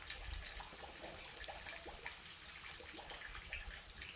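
Steady rushing water pours continuously like a small waterfall, a dense splashing wash with no pauses.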